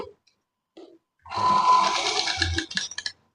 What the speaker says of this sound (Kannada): ಇಲ್ಲಿಂದ ನಾನು ಯಾವ ರೀತಿ ಸ್ಟಿಚ್ ಮಾಡ್ತೇನೆ ನೋಡಿ